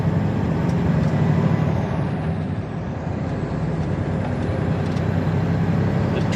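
A Mack truck rolls down the road with the cab window open, a loud, steady rumble of engine, tires and rushing wind that fills the whole stretch without pause.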